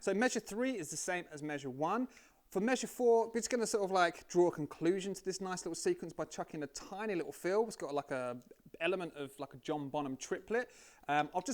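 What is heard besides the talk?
No everyday noise stands out behind the speech.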